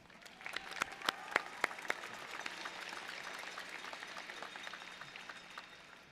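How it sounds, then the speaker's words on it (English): Graduation audience applause starts with a few sharp, distinct claps near the front, then settles into a quieter, sustained patter of many hands that carries on for several seconds. "Can we give her a round of applause?"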